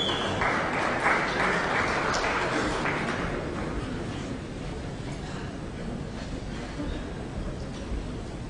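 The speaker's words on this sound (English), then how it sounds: "Well, there's applause" A snooker crowd applauding in the arena, a dense, steady patter of clapping that stays at even loudness and tapers slightly over eight seconds, with faint talk mixed in underneath.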